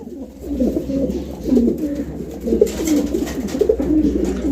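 Black Marshall pigeons, shown as a pair at a market, coo in repeated rolling throaty phrases, close and fairly loud over a low steady background hum.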